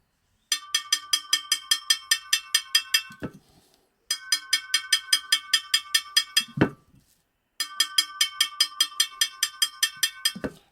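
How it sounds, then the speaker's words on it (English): Kiln-formed glass from an 8-inch drop-through vase is tapped along a score line to open it, producing rapid bright clinking taps in three bursts separated by short gaps, close and distinct with no talk. "as that score starts to open up, you will hear the tapping becomes duller"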